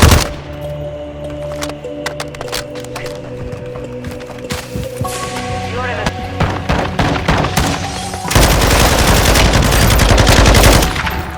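Rapid automatic gunfire from a Call of Duty match rattles in dense bursts throughout, with a louder sustained barrage near the end, mixed with game sounds and announcer cues.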